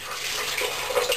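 Water pouring steadily into a smoothie blender, a continuous close splashing rush that swells slightly toward the end, with no talking over it.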